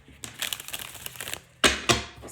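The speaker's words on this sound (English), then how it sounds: "as you can see, I am shuffling" Tarot cards riffle and crinkle in quick papery bursts, ending with two sharper, louder snaps of the deck being shuffled up close with no talking.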